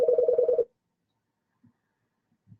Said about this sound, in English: Hear the phone ring.